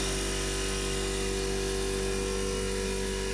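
A cold room refrigeration compressor runs steadily, giving a constant mechanical drone with a strong steady hum, loud and unbroken throughout, with no talking.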